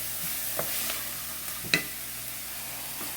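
Onions, shallot, garlic and ginger sauteing in a pan give a steady soft sizzle, with a few faint utensil clicks and one sharper clink partway through.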